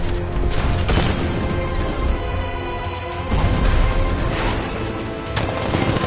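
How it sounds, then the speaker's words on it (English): Heavy 60mm tank cannon fire in the video game Batman: Arkham Knight booms repeatedly in a loud, dense barrage of blasts and crashes, continuous and close, with no voices. "60mm cannon operational."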